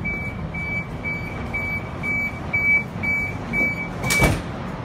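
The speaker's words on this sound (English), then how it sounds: "Doors closing. Please stand clear." Warning beeps from an NSW TrainLink H23 train as its doors close at a station stop: a steady run of about eight evenly spaced high beeps over low carriage rumble, ending with a brief burst of noise.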